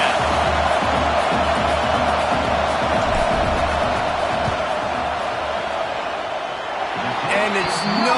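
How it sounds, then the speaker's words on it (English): Loud, steady roar of a stadium crowd during a fourth-down field goal attempt in College Football 26, Stanford against Texas, a dense continuous wash of noise with scattered shouts and no talk. "This crowd trying to do its part to get inside the kicker's head."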